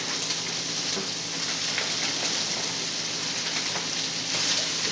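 Steady, even sizzling of asparagus and peas sautéing in a pan, a dense hiss with faint crackles, close and continuous without any talking.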